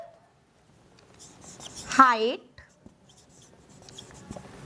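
A pen scratching briefly on paper or a board during a maths lesson, a short writing stroke heard between a man's spoken explanations.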